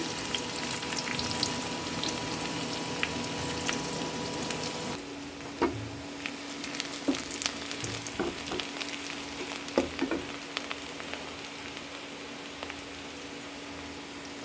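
Small fish frying in a pan at home, a steady loud sizzle and crackle that runs throughout, with scattered sharper pops and clicks in the second half.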